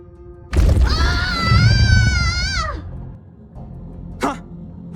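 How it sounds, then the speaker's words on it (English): A high, wavering cry rings out in the Honkai Star Rail video game, loud and drawn out for about two seconds, followed by a brief sharper yelp. "Did someone scream?"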